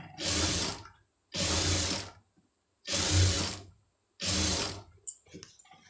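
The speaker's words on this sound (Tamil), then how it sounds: "பரட்டிட்டு தையல் போட்டுருங்க" A sewing machine stitches fabric in four separate bursts of about a second each, evenly spaced with short quiet pauses between them; each run is a close, whirring mechanical rattle.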